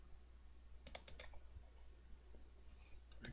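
A computer mouse clicks close by and quietly, in a quick cluster of sharp taps followed by a lone click near the end, over a low background hum.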